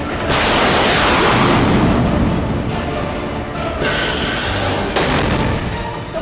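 A Pakistani missile launch erupts in a loud, sustained rushing roar and rumble that lasts several seconds, heavy and close, with no talk.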